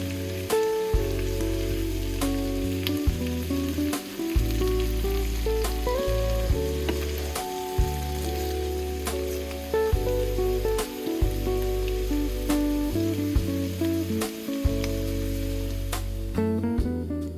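Crispy pork cooks with wine and leeks in a pan, giving a steady bright sizzle and crackle throughout under a bed of background music, with no speech.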